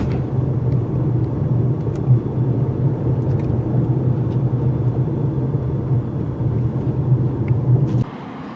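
A Toyota RAV4 Hybrid rolls steadily over speed bumps at about 30 miles per hour, a close, constant low rumble of engine and road noise with faint thumps, cutting out near the end.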